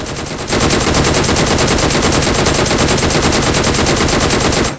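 Sustained automatic gunfire from a weapon in the BGMI battle royale mobile game, a loud, dense rapid burst running steadily for several seconds after a brief lead-in.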